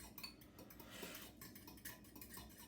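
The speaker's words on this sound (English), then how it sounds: "mix the eggs, the yolks and the whites together using your fork" A fork whisking egg yolks and whites together in a bowl for scrambled eggs, heard as quiet, fast rhythmic clinking and scraping against the dish, soft and close with no voices.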